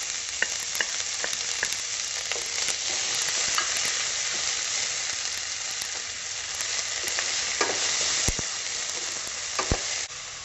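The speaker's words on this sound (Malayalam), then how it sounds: "അതിലേക്ക് ഞാൻ കുറച്ച് സൺഫ്ലവർ ഓയിൽ ഒഴിച്ചു കൊടുക്കുകയാണ്. ഇനി നമുക്ക് ഇതിലേക്ക് 3 സവാള ചെറുതായി അരിഞ്ഞിട്ട് കൊടുക്കാം." Three finely chopped onions frying in sunflower oil, a bright steady crackling sizzle throughout with occasional spatula knocks and stirring scrapes, close up and without speech.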